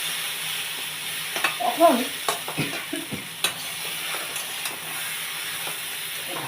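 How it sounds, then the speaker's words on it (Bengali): Ingredients frying in a pan for a thin fish curry of gourd stems, potato and tangra fish, with stirring clatter and soft sizzling through the middle, a few brief scrapes, and a word spoken once. "ভাজতে ভাজতে একটা সুন্দর সেন্ট বের হবে,"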